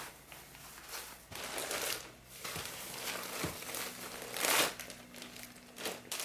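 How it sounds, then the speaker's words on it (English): A backdrop bag being folded gives off soft, irregular crinkling and rustling close by at low volume, in short bursts with brief pauses, and no one speaks. "I'm actually going to fold this once more"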